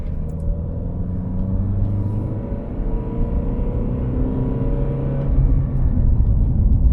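A 2021 Honda CR-V AWD diesel crossover accelerating in sport mode: a steady, close engine rumble with a low drone that swells slightly toward the end, with no talking.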